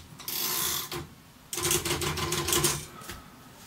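A Royal KMM manual typewriter carriage slides along the line while the tab release key is held down, giving two bursts of ratcheting, clattering mechanical noise separated by a brief lull, close and fairly loud.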